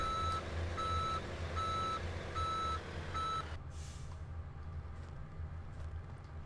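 A truck backs up with its reversing alarm beeping in an even, repeating rhythm over a low diesel rumble, then the beeps stop and the engine idles on with a brief hiss.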